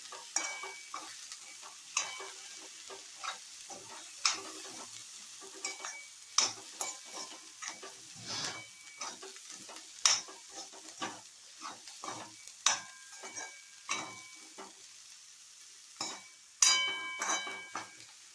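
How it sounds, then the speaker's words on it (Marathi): Boiled chana chaat is stirred with salt and finely chopped coriander in a bowl. A spoon scrapes and clinks against the sides in a steady, repeated rhythm, close and fairly quiet. Nobody speaks. "आता हे चांगलं मिक्स करून घ्यायचं आहे."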